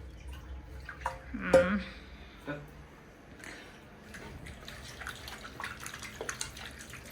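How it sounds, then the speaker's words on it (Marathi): Water poured from a clay pot makes a few soft splashing and dripping bursts, close and fairly faint, with a voice in the background. "पाणी देते या मटक्यातून"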